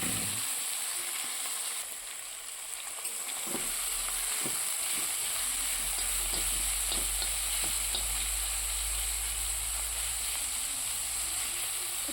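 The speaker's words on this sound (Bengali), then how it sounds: "তো ততক্ষণ মশলাটা ভাজা হোক," Cardamom seeds and chopped spices fry in hot oil with a continuous close sizzle and hiss, broken by scattered crackles and pops and some stirring, with no voices.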